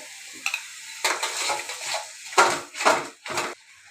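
Wet stirring and scraping as sour yogurt is stirred into a pan, several bursts of spoon strokes over a soft sizzle, close and fairly loud, no talking.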